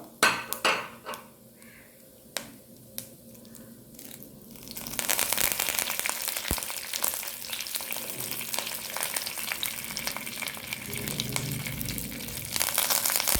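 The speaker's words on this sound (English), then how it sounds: "The oil is hot, so you can put in the jeera, rai and urad dal, and also put in the curry patta" Cumin, mustard seeds, urad dal and curry leaves hit hot oil: a few spoon clinks against the pan, then a loud burst of crackling sizzle and popping that stays steady and close.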